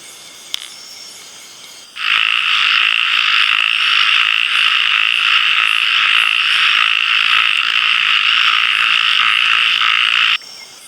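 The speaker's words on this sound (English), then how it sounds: "We saw a lot of these type of narrow-mouthed frogs" Narrow-mouthed frogs in Thai forest leaf litter call in a dense, steady, loud chorus that starts abruptly and runs continuously for several seconds before cutting off.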